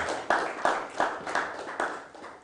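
Studio audience on a Ghanaian afternoon TV show claps for a seated guest, a sparse ragged round of about seven distinct claps spaced steadily, moderately near, with no talk.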